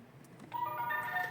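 Keypad beeps from a Halo Mini immobiliser fitted to a Lexus RX 450h as a code is entered: a quick run of short, clear electronic tones, close by, after a brief quiet moment.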